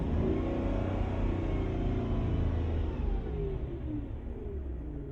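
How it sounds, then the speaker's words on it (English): A 2004 Mercedes E500 V8 with lean fault codes revs loudly with a steady, rumbling roar that slowly settles back down; no voices are heard. "when I rev the engine"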